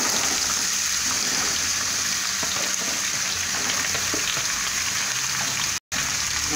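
Green papaya sizzles in a pan with browned garlic, a dense, steady frying hiss that carries on loud and close with a brief cut near the end.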